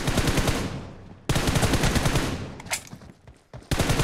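Rapid automatic gunfire in a team deathmatch video game, dense continuous bursts of loud shots with a short break and a small gap before firing resumes.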